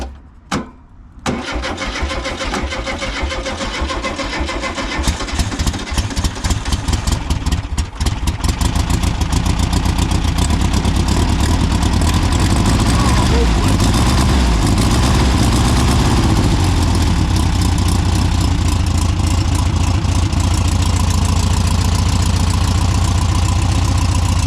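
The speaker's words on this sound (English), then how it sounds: "So glad I managed to get that engine to run" A VW Beetle engine from a scrapyard car coughs briefly, then catches and runs loud and steady, settling into a rough, even idle with no talking.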